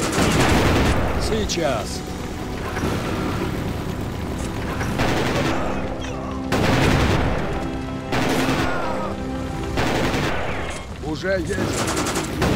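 Battlefield combat in a World War II Soviet campaign toward Lviv: loud repeated gunfire bursts and booming blasts come in waves, with a voice speaking Russian between the shots.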